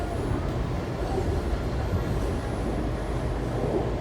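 Inside the Kawasaki 7000-series metro car 7148 rolling through an underground tunnel, a dense, continuous low roar and rumble of wheels and motors fills the space at a steady, loud level, with a faint high whine.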